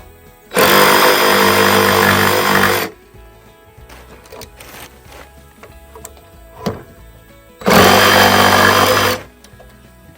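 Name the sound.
variable speed power saw with blower running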